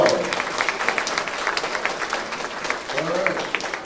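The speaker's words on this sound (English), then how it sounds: "Let's give her one more round of applause." An audience applauds at a college weekly chapel service: sustained, fairly loud clapping throughout, with a few voices and cheers rising briefly underneath.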